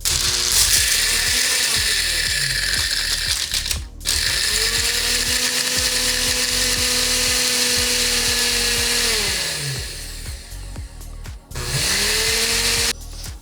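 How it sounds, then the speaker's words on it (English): A small blender grinds loudly through ice in long runs, its motor pitch dipping and rising, with brief pauses between bursts. "we're crushing ice"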